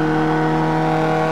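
A steady, droning rally car engine hums at constant revs in the racing game Xpand Rally, loud and unbroken for a brief moment.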